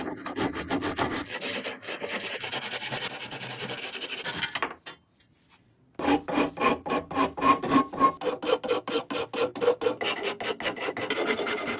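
Rasping and filing by hand on a wooden axe handle, shaping it to fit the axe eye: steady rhythmic rough strokes, a brief pause midway, then quicker regular strokes, close and loud.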